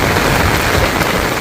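Heavy rain pours steadily in a village, a loud, dense, unbroken hiss of downpour drumming on surfaces with no voices.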